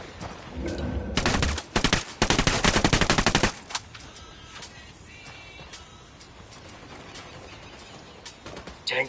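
Loud bursts of automatic gunfire in the tactical shooter Ghost Recon Wildlands, dense rapid volleys for a couple of seconds, then trailing off into quieter ambient game noise with scattered distant shots.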